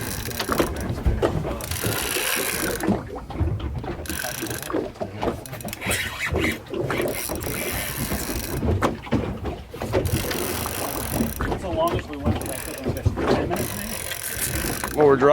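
A fishing reel's drag clicks in rapid ratcheting bursts as a hooked red snapper pulls line off St George Island, Florida, loud and close with boat and handling noises around it.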